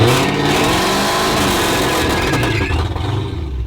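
A powerful Dodge Hellcat muscle car engine revs hard and loud, its deep roar rising and falling continuously for several seconds with no voices.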